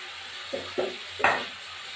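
Three quick scraping stirs, each followed by a brief sizzle, as lentil dumplings (bori) fry in hot oil alongside potato and cauliflower in a pan; close and fairly quiet, no talking.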